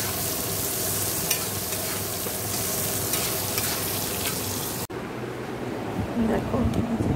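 Fish roe fritters frying in oil, a dense, continuous sizzle and hiss close by, briefly cut off and then resuming more softly, with a voice speaking over it.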